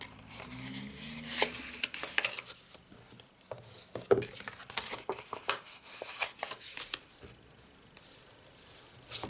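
Scored designer series paper for a handmade gift box is gently burnished by hand, making soft rubbing, scraping and crinkling strokes in an irregular rhythm, close and quiet.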